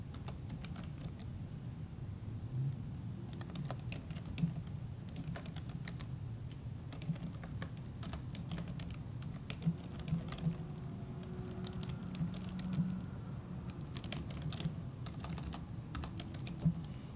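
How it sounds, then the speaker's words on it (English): Steady clicking of fingers typing on a computer keyboard, close up and continuous, with irregular bursts of keystrokes over a low background hum. "So we'll go ahead and type in a subject."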